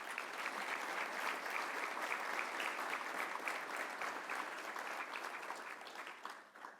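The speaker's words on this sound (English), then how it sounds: "So let's just give them a quick round of applause." A dinner audience gives a quick round of applause, dense clapping from the room that holds steady and then tapers off at the end.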